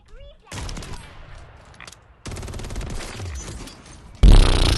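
Bursts of Call of Duty: Modern Warfare III gunfire crack out in rapid clusters, with a loud sharp burst near the end, mixed with game effects and background noise.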